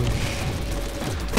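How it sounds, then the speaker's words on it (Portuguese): Grenade explosion in the video game Borderlands, a low booming rumble that stays dense and sustained for the whole moment amid ongoing game noise. "Jogou granada, mas passou longe."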